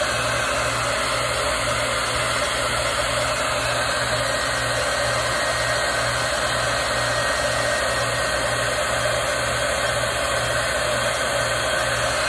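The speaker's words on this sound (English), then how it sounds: "I'm gonna blast it with my hair dryer one more time" A hair dryer blasts steadily and close up over a 12-inch heart-shaped piece, a continuous loud whirring drone with a low motor hum that holds unchanged throughout with no talking.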